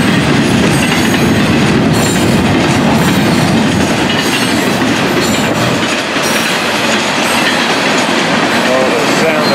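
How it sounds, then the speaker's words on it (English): A freight tank train rolls past close by, loud continuous rumble and clatter of wheels on rails, with wind noise throughout. "Oh, the sound of a tank train is scary."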